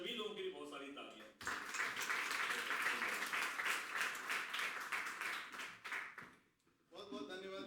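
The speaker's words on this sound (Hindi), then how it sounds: "इन सभी लोगों के लिए बहुत सारी तालियां" Sustained audience applause for young poetry performers at a Hindi community poetry event in the UK, a dense wash of clapping lasting several seconds, with a host's speech before and after it.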